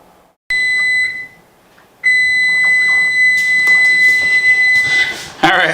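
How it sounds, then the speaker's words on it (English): A kitchen timer goes off while a blueberry loaf with streusel topping bakes, sounding loud, steady electronic beeps in two bursts separated by a brief gap, with some background clatter near the end. "Alright, so our timer is going off here now."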